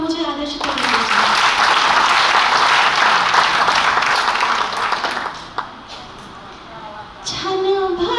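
An audience at a Hindi poetry recital (kavi sammelan) breaks into loud, dense applause lasting several seconds, then fades, with a voice speaking briefly at the start and end.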